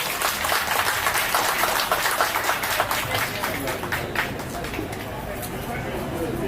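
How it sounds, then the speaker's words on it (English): A crowd applauds with steady, dense clapping that gradually fades, with some voices murmuring underneath. "Please help me give them a round of applause."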